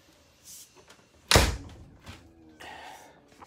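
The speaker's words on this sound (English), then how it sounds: "Let me close the door." An RV door in a 2021 Fleetwood Bounder 35K motorhome is pulled shut, giving one loud, close slam with a sharp thud, followed by a few faint rattles and small knocks as the interior settles.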